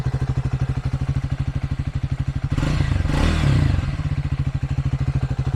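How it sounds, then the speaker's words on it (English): A 2024 Triumph Speed 400 single-cylinder motorcycle idling close by, a steady loud thumping pulse with a brief swell of revving midway before settling back to idle. "Really that classic thumper sound, that big single cylinder."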